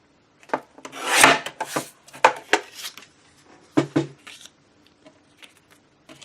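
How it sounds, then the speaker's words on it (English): Paper trimmer slicing card stock while making a Christmas tag, a few close, dry rasping strokes of the blade in short bursts, quieter scraping between. "get my trimmer and just trim that off"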